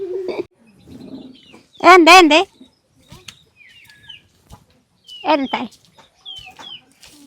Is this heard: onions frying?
no